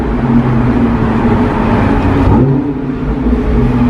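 A tuned 400 hp Audi S5 engine revs in a loud, continuous drone that holds steady, with a brief dip and rise in pitch partway through, heard close up.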